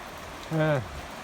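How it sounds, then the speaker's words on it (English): Steady rain falls on a rural pasture, a soft constant hiss heard under an umbrella. A brief voice-like sound breaks in partway through. "I hope the rain lets up a little bit more"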